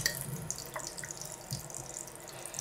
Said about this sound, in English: and you turn the hot tap on.